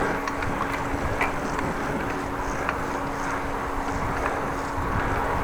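Wind buffets the microphone during a ride on a Dutch bicycle, a constant rumbling rush with a faint steady hum and small clicks, with no talking.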